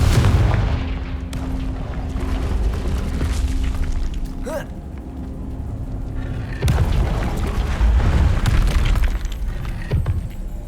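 Confringo spell blasts in Hogwarts Legacy, heavy booming explosions that hit loud at the start and again later, separated by a rumbling, crackling lull.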